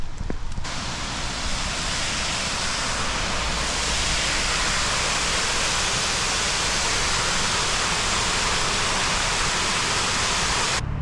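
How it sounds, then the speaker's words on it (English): A waterfall in an urban park roars as a steady, loud, broadband rush that stays constant and close throughout, with no voices. "There's a waterfall."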